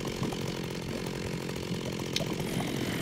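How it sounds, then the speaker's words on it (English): Chainsaw used against a skeleton in Minecraft with the Tekkit Lite modpack, a continuous buzzing motor drone at close range that holds steady for about three seconds with a few small spikes. "Have a taste of my chainsaw."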